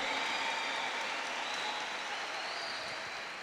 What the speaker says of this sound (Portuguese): Você aplaudiu.